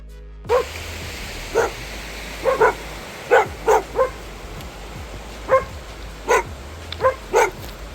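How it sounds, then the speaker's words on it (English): A big, loud dog barks from somewhere nearby along a walking trail, with about a dozen sharp single and double barks spaced irregularly over steady outdoor background hiss. "apparently there's a really big dog,"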